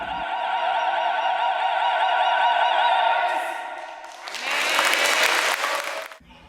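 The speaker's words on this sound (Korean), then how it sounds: "이 솔리스트 성교 합창단의 공연이 이어지자 참석자들의 박수갈채가 이어집니다" A church opera choir made up of congregation members at a Rome church sings in sustained harmony, then the audience bursts into loud, dense applause near the end.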